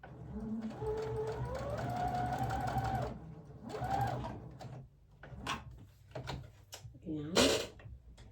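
A sewing machine stitches patchwork squares in bursts, its whirring motor rising and falling in pitch through a long run and a shorter one, followed by clicks and handling knocks; a voice talks quietly throughout.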